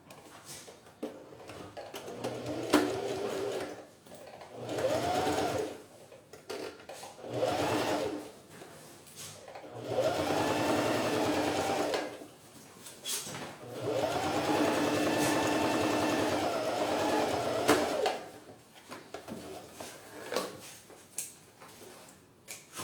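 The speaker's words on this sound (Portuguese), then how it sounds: "Costurou de um lado, agora a gente vira e costura do outro." A sewing machine stitching a fabric phone holder with two zippers runs in repeated bursts of fast, rhythmic whirring and clattering, separated by short pauses, close and clear with no talk.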